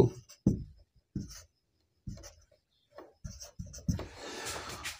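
Hand writing on paper while working through a math test paper solution, heard as a series of short scratchy pen strokes in separate bursts, close and fairly quiet, with a denser stretch of scribbling at the end.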